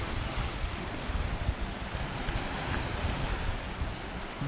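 Small waves lapping on a Mallorca shore at Camp de Mar, a soft continuous wash of surf with gentle swells and some wind buffeting the microphone, steady throughout with no voices.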